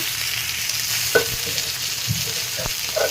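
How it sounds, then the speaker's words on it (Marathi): Semolina-coated pomfret frying in oil, a close, even sizzle with a few soft clinks and scrapes from the pan, no voices present. "आता आपण मस्त रवा मिसळून घेऊ, फ्राय करून घेऊ।"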